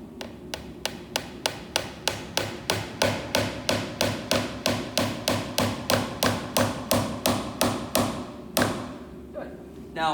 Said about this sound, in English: Now, why do you think that we don't want to hit the hammer all the way down on this project?